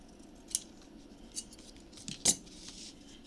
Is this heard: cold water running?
no